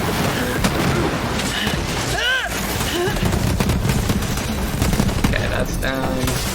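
Rapid gunfire in the Borderlands 3 video game during a fight with a fallen guardian, dense continuous bursts and booms with chirping effects layered over busy game noise.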